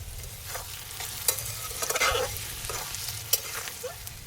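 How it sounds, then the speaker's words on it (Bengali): Onions frying with salt in a pan for a village-style mutton curry outdoors in a garden: a steady soft sizzle with scattered stirring scrapes and taps, close by and moderately quiet, with no voices. "অল্প নুন দিয়ে দেবো, পেঁয়াজটা তাড়াতাড়ি নরম হয়ে যাবে।"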